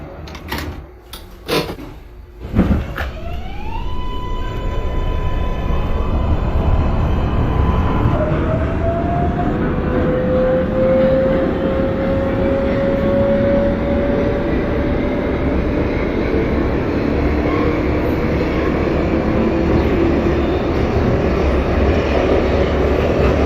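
An NYC Subway R142A train on the 4 Lexington Avenue Local, simulated in the OpenBVE game, starts with a few door clunks and a chime, then motors whine upward and a loud steady rumble carries on throughout with no voices.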